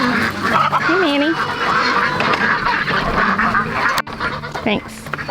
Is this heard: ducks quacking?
yes